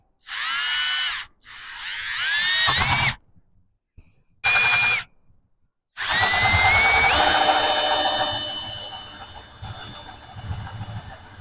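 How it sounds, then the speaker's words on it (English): A power drill whines in several bursts, stopping and starting, then bites into a reclaimed wooden 2x4 with a long, rougher grinding run that slowly fades. "I'm going to drill a hole here."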